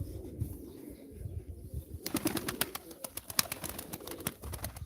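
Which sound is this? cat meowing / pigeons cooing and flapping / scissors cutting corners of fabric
pigeons cooing and flapping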